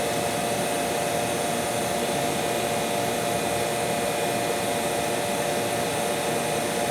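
Seamtek hot-air seam tape welder running, giving a steady, loud blowing hiss like a hair dryer that continues unchanged throughout, with no talk.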